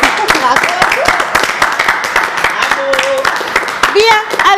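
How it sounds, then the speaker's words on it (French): A studio audience on a French television programme claps for national television workers: close, sharp hand claps in a rapid, dense patter, with voices and a few whistle-like tones over them. "j'aimerais qu'on applaudisse tous ceux qui travaillent sur la télévision nationale"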